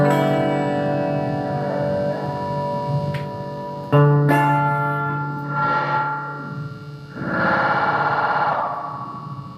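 A homemade delay circuit effect makes loud, warbling, swooshing sci-fi tones like a UFO, with echoing repeats and rising, sweeping bursts, and no voices.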